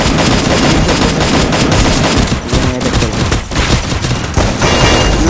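Dense, continuous automatic gunfire from a Free Fire zombie mode match roars loudly and without pause, layered rapid shots blending into a heavy, sustained barrage.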